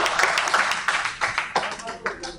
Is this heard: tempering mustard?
no